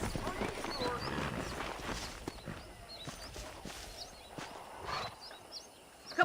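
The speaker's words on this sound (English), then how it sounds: "let's see if you can still ride a horse." Horse hooves clip-clop quietly as a horse is ridden in the Red Dead Redemption video game, an uneven run of soft thuds with faint bird chirps in the background.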